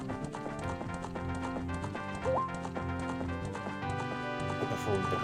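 A horse gallops in a horse race in the video game Zelda: Ocarina of Time, its rhythmic hoof clip-clops running under busy game music and sound effects.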